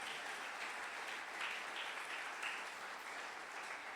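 A church congregation claps steadily throughout, a soft, even, distant-sounding patter of applause with no talk over it.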